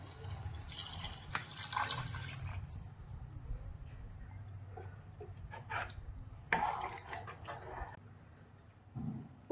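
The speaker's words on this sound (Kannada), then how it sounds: "3 ಕಪ್ ನೀರು ಹಾಕ್ತದನಿ." Three cups of water pour into a pot of soaked rice for fenugreek-leaf pulao: two short, faint splashing pours, one early and one later, with quiet handling in between.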